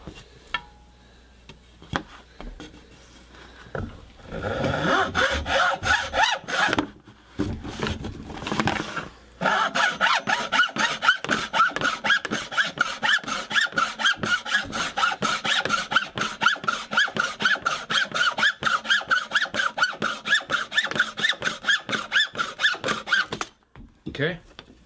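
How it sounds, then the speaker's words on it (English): A hacksaw cuts through a wooden dowel rod in fast, regular back-and-forth strokes, close and rasping with squeaky edges. A few pauses break the run of strokes before the sawing stops near the end, and brief talk is heard at the start. "Get our hacksaw."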